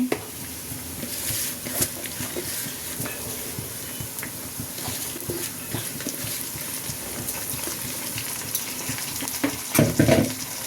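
Rice and chickpeas stirred into onions frying in a pan for Ramadan chola pulao, a steady close sizzle with clinks of a spoon and pan scraping throughout, louder stirring near the end.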